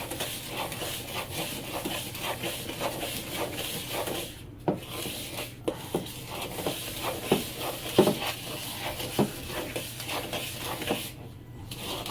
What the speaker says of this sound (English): you stir this until it's nice and smooth